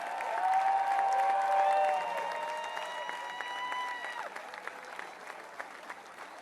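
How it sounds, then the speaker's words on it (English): Crowd at a men's basketball national championship parade applauding more than 130 former players, a moderate burst of clapping over sustained tonal sounds that fades into scattered claps and noise. "Give them a round of applause."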